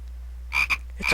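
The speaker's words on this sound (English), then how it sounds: "It's a frog!" Frog croaks in JoJo's Bizarre Adventure: Phantom Blood, three short bright croaks alone over a steady low game hum, close and clear.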